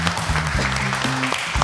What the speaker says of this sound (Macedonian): голем аплауз ќе ја молам